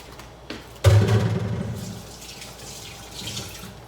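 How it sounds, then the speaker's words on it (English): Kitchen tap turned on for hand washing, a sudden gush of running water that settles into a steady splashing stream into the sink, close by with no talk. "Gonna wash my hands."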